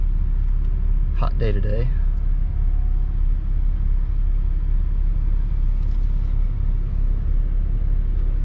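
A 2014 Porsche 911 Carrera 4S engine runs just after starting, giving a low, steady rumble throughout while someone briefly speaks near the start.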